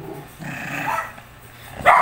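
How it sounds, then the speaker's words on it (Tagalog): A male dog growls low near a stainless pet drinking fountain, a rough rumble with a short sharper bark-like burst at the end, close by and without talk. "Kaya nag-growl siya."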